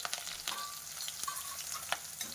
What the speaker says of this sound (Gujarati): અને સરસ લસણને આપણે સાતળી લેવાનું છે